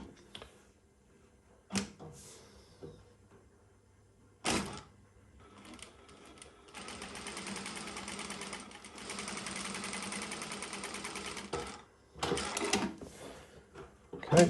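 A Prosew PS-1985 industrial sewing machine gives brief clacks, then a sustained, close mechanical run of about five seconds while stitching a demonstration seam with start and end tacks, followed by a few short bursts and clicks in a quiet room.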